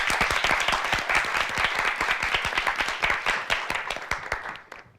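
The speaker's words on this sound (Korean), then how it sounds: "박수 부탁드립니다." Audience applause at a high school debate competition, many hands clapping in a lively, dense rhythm that holds steady and then fades out near the end, with no talking over it.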